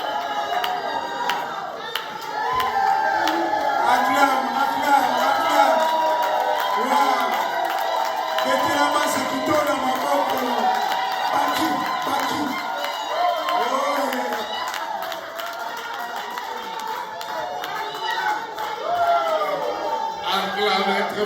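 A congregation at a wedding blessing shouts and cheers together, a sustained crowd roar with overlapping voices that rises after a couple of seconds and holds steady throughout.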